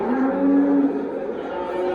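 A cow at the Parkent livestock market in Tashkent gives a low, drawn-out moo close by, one sustained call over a dense murmur of crowd noise.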